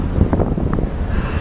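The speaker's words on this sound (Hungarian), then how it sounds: "Itt megint lesz jó kis szél" Strong wind buffets the microphone in a continuous roar with low rumbling gusts on the open deck of a ferry sailing between Bastia and Livorno, no voices heard.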